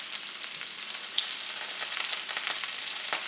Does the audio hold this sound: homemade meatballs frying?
yes